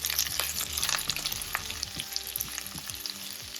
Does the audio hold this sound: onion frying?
yes